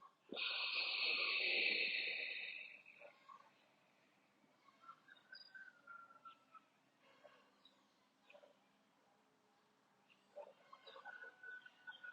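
A single long, deep breath during an outdoor breathwork session, a close, airy rushing hiss lasting about three seconds, followed by near-silence with faint bird chirps in the distance.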